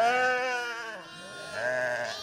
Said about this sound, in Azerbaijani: Qoyunçuluq təsərrüfatının ən maraqlı mənzərələrindən birisi də bu cür ana və balaların qovuşmasıdır.